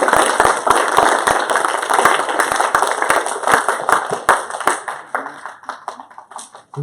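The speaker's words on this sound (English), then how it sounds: "So please give them one more round of applause." An audience at a law and public safety panel forum gives a round of applause: dense clapping with sharp individual claps standing out, loud and close, thinning out toward the end.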